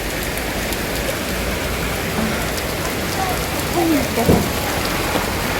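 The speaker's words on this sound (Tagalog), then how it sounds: "Ganyan nandito sa palengke pag malakas ng ulan, no?" Heavy rain pours steadily over a wet public market, a dense continuous hiss with scattered drips, while a person briefly speaks and other faint voices rise near the end.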